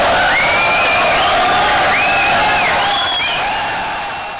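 A pool hall crowd erupts in loud cheering, whoops and rising whistles after a full-table, three-rail reverse bank shot sinks the 10 ball. The roar stays close and dense, then fades toward the end.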